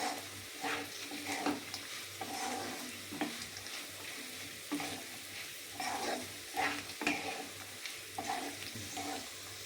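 Oil sizzles steadily in a pan while a spoon stirs and scrapes in irregular bursts, close by, with no voices.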